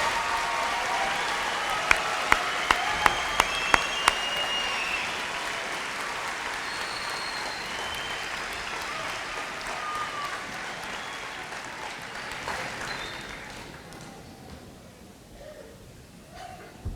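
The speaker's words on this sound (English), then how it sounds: "Let's give them another round of applause," Applause for a high school graduating class, a sustained roar of many clapping hands filling a large hall with a few sharper claps early on, slowly thinning and fading near the end.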